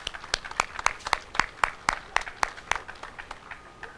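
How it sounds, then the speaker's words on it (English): Scattered, fairly light clapping at a city bus ribbon-cutting ceremony honoring the mayor and council, distinct individual claps in an uneven rhythm that thin out toward the end. "a nice round of applause for our mayor and council to make this possible"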